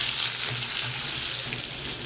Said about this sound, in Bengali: আর একটু হালকা লাল করে ভাজবো আমি পটলগুলোকে